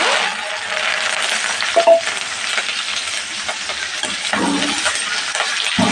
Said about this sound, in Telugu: కరివేపాకు మంచిగా ఫ్రై చేసుకున్నాం